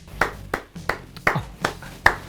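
A handful of sharp, separate hand claps ring out at a steady pace, about six in a row, fairly quiet and with no talking.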